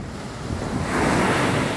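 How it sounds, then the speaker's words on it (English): Atlantic Ocean surf breaking on the beach at Rodanthe on North Carolina's Outer Banks, a continuous roar that swells louder midway, with wind buffeting the microphone. "the sound of the waves"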